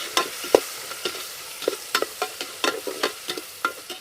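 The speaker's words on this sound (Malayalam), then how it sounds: "ഇനി നമുക്കിതിൽ ഒരു വലിയ ഉള്ളി ചെറുതായിട്ട് അരിഞ്ഞത് ഇട്ട് കൊടുക്കാം." Chopped onion frying in a pressure cooker for chicken kabsa, with a soft sizzle beneath repeated scraping and stirring strokes, close and fairly loud, about a dozen irregular strokes.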